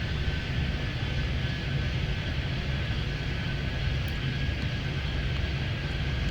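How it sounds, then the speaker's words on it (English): An airliner takes off in the Airport Madness 3D airport game, a steady broad jet engine roar holding at constant loudness throughout without a break. "995, cleared for takeoff. Runway 12."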